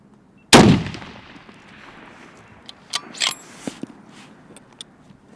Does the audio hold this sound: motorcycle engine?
no